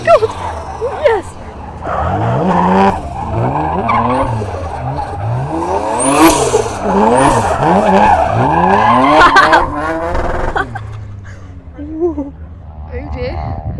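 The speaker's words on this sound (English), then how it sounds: "he's just locked up and went onto the grass" Retro cars at the Goodwood autosolo skid and squeal their tyres as one locks its brakes, rising and falling screeches over a revving engine, loud and close, while excited voices call out over the noise.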